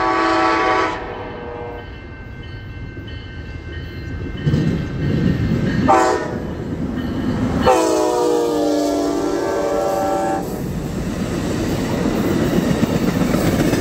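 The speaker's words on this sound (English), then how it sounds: "Southbound, Amtrak Coast Starlight. ALC 42 at the head." Southbound Amtrak Coast Starlight passenger train led by an ALC-42 locomotive, passing close and loud with horn blasts sounding several times over the steady rumble and rattle of the cars.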